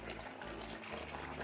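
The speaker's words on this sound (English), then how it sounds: "I'm now filling the bowl with water, and I've put some washing up liquid in" Tap water runs steadily into a washing-up bowl with washing-up liquid added, a continuous close rushing splash with no voices.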